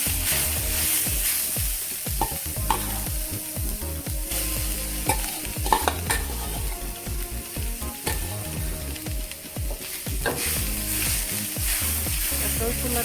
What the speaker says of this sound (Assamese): সেয়েহে মই অলপ নাৰিকল লৈছোঁ আৰু ইয়াতে সেইখিনি ভাজি ল'ম।